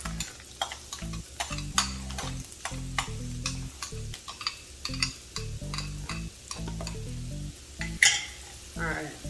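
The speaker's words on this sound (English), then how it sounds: "I'll saute it up just a little bit together" A whole onion sautés in a pan, a gentle sizzle broken by rhythmic spoon scrapes and taps, with a low humming tone running underneath.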